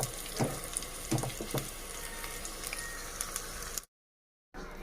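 Garlic kebab frying in a pan over a low flame, giving a steady close crackling sizzle with small pops, then a brief cut to silence before the sizzle resumes.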